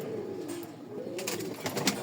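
Pigeons in a loft cooing in low, soft, rolling murmurs, with faint rustling and flutter close by and no talk.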